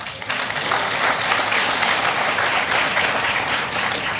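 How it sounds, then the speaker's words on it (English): Steady applause from a Milwaukee campaign rally audience fills the whole stretch, a dense, even patter of many hands clapping at a moderate distance. "that deserves a round of applause"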